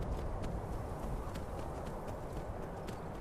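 Hooves of Shadowmere, a horse in the game Skyrim, clopping in a steady, even rhythm over a dense, rumbling low background, with no voices over them.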